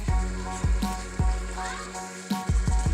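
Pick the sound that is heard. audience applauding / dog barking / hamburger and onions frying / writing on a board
hamburger and onions frying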